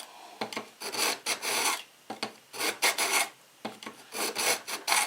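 A kitchen knife blade is drawn through a ceramic sharpener in quick repeated rasping strokes, bursts of gritty scraping separated by brief pauses, close and clear with no talk.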